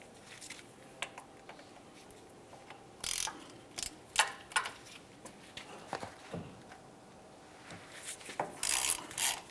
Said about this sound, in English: Now we can start removing our three 15mm headed mounting bolts that hold the wheel bearing to the knuckle